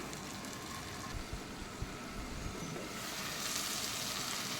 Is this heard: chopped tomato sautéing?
yes